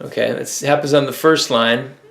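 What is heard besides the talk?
No distinct noise like a dog, phone or traffic.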